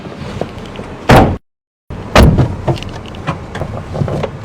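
Car doors thud shut as a team climbs into a vehicle, two loud close slams separated by a brief silent gap, followed by softer knocks and shuffling inside the car.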